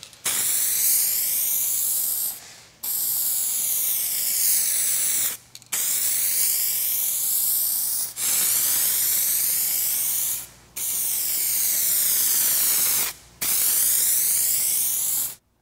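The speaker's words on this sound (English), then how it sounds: "for now, we're just gonna spray in the primer area" A rattle can of spray paint laying primer on a car panel: six long, loud, steady hissing bursts separated by brief pauses, heard up close with no talking.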